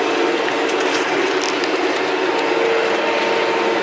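A John Deere 6120E tractor cutting grass at Hollis Farms runs with a loud, steady, unbroken mechanical drone heard from close up, with no talking.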